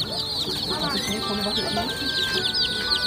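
A half-grown young chicken clucks repeatedly at close range in a petting zoo, its steady chatter carrying throughout with soft voices in the background.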